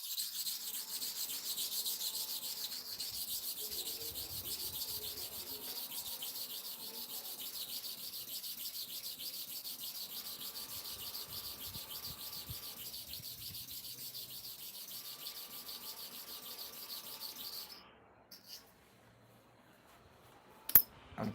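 A clipper blade is rubbed back and forth on a sharpening stone in a soft, steady, rhythmic scraping that runs continuously, then stops near the end with a few faint clicks and taps.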